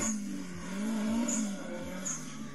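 A Nissan S14 drifting on a wet city street in the rain, its engine holding a steady drone with repeated revving surges and a faint tire hiss over the water, heard from close by.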